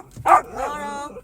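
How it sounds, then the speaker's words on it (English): A dog barks once sharply, close and loud, followed by a whining, whimpering tail; a person is talking excitedly around it. "The dog started barking."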